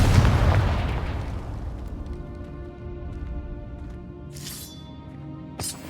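A Confringo blasting spell in Hogwarts Legacy bursts with a loud, broad boom at the start, then a long rumbling decay fades under ambient game music, with a couple of faint whooshing effects later.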